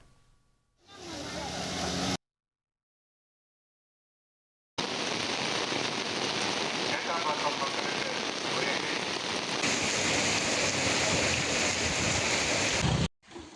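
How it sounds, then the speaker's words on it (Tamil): Heavy rain pours at night in Puducherry, a dense continuous hiss that cuts out for a couple of seconds of silence, then returns just as steady and loud. "புதுச்சேரியில் சுமார் 2 மணி நேரத்திற்கும் மேலாக பெய்த கனமழையால் நகரின் பல்வேறு பகுதிகளில் மழைநீர் பெருக்கெடுத்து ஓடுகிறது"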